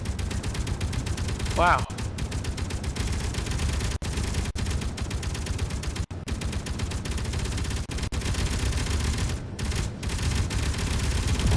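Dense, continuous gunfire with rapid bursts and explosions rattling throughout, loud and close, with a brief exclaimed remark near the start.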